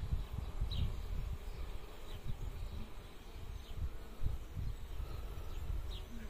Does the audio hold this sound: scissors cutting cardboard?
no